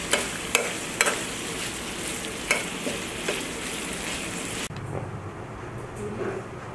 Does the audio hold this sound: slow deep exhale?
no